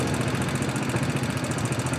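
A Kawasaki Barako 175 motorcycle tricycle idles on Boracay, putting out a steady, close, throbbing engine chug with even pulses and a light rattle of vibration.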